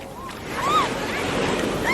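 Ocean waves break on a beach in a steady rushing wash, with wind buffeting the microphone and a few faint squeaky tones on top. Nobody speaks over it.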